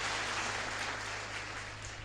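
Applause from a crowd at a religious darbar gathering, a steady dense clapping wash that stays fairly faint throughout.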